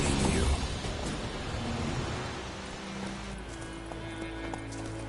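Horse hooves clip-clop steadily as Geralt rides Roach in The Witcher 3, a continuous galloping patter over a dense bed of game ambience and music.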